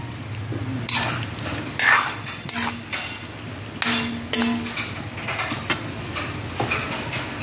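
A lid is set back onto a cooking pot of adobo with mushrooms and boiled eggs, making several close metallic clanks and rattles with scraping in between. No one speaks.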